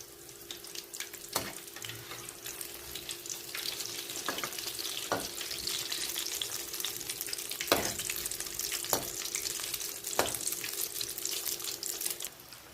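Chicken 65 pieces frying in oil after being turned, a constant bubbling hiss punctuated by several light utensil taps, close and without speech.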